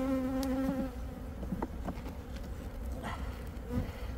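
Honey bees buzz densely inside an open beehive heavy with propolis and crowded with bees, a steady close-up drone with individual insects whining past now and then.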